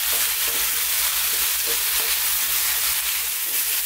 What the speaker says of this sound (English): let's just stir fry this for about 4 minutes